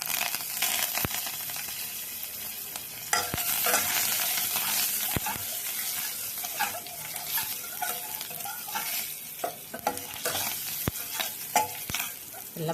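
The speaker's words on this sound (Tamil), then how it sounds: "எல்லாம் பொரிஞ்சிடுது." Fenugreek seeds and coriander frying in hot oil for a buttermilk curry, a steady bright sizzle running throughout with sharp spoon clicks and stirring scrapes scattered across it, close and moderately loud, no talking.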